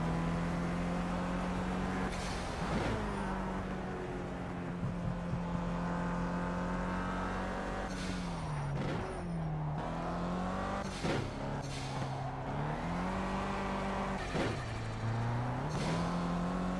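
Engine note of a KTM X-Bow driven in the Project CARS racing game, a loud continuous drone rising and falling through repeated upshifts and downshifts, with sharp revving bursts as it brakes and accelerates through corners, no talking.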